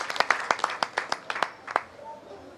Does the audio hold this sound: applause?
yes